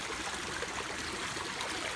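Creek water trickles and babbles steadily along a wooded trail, a soft, continuous flowing wash heard close up while someone collects water, with no voices.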